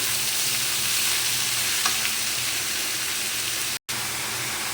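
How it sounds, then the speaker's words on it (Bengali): Bottle gourd sizzling and frying in a pan while being stirred, a steady close hiss with faint scraping throughout and one brief dropout near the end. "এখন এটা নাড়াচাড়া করবো একটু"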